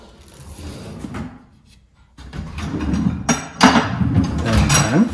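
Kitchen pan drawers beneath a gas hob in a show home slide open and shut, giving a run of clunks and light clinks that grow louder toward the end.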